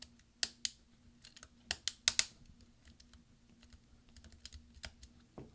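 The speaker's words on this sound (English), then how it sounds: "there's clips underneath here that correspond to the actual hinge underneath it. And we're pushing it down until they all catch." Plastic clips snapping into the hinge beneath a right command key on a mid-2010 13-inch MacBook Pro 2.4 GHz, heard as several sharp close clicks in a quick irregular cluster, then sparse lighter taps against a faint steady hum.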